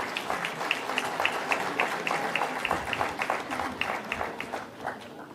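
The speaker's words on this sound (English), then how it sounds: "Ladies and gentlemen, a round of applause for our esteemed dignitaries." An audience applauds dignitaries at a startup event in India, a full crowd of hands clapping steadily, with a few sharp distinct claps standing out and the ovation thinning slightly toward the end.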